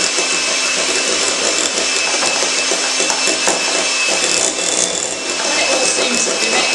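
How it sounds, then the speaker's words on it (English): An electric mixer whirs steadily at high speed through a cake mixture for a sultana slice, a continuous close buzzing drone with no break for several seconds. "Turn it up and give it a real good whiz,"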